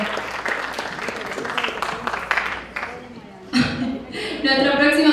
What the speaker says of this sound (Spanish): Round of applause for Jennifer